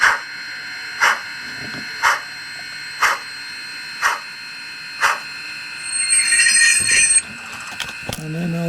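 A model locomotive's onboard sound system plays loud, regular chuffing bursts about once a second. A longer hissing release follows, then a brief metallic squeal, all close and with no speech.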